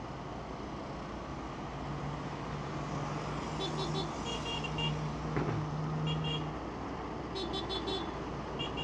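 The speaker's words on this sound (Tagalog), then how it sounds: "Businahan kasi." Manila street traffic rumbles steadily while car horns toot repeatedly, with a long sustained honk, a sharp single beep, and bursts of short rapid toots from nearby vehicles.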